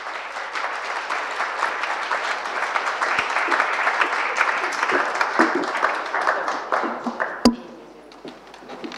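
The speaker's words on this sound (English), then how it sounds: "Please give them a huge applause!" Audience applause at a design talk about wood, a dense crowd of clapping hands at moderate volume that holds steady for several seconds, then thins out after a sharp knock near the end.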